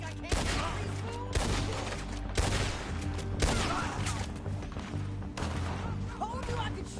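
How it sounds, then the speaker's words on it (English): Repeated gunfire from a Red Dead Redemption 2 shootout, several sharp shots at irregular intervals over a steady bed of game music and ambience. "Told you I could shoot a gun, didn't I?"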